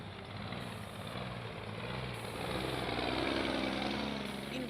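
A truck engine idles in the congested streets around Apapa near the Lagos port, a steady low diesel rumble that swells slightly louder midway, with no one talking.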